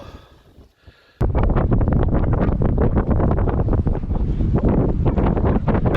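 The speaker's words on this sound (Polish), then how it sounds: "Tylko dlaczego zawsze mnie ten wiatr prześladuje?" Loud, roaring wind buffeting a microphone while fishing at Siemianówka, starting abruptly after a quiet second and continuing in heavy gusty bursts to the end.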